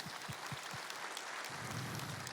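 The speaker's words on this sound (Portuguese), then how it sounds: "Olha, merece um aplauso do padre." Applause for a priest during a church Mass homily: a few sharp claps at first, then a steady, dense wash of clapping from the congregation, moderately loud and without speech.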